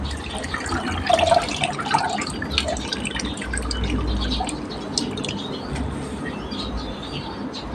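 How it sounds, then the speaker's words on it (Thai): Noodles are rinsed under running water to wash off flour, with steady close splashing and dripping and some soft handling noises throughout. "เอาลง ล้างก่อน เราจะล้างแป้งออกก่อน"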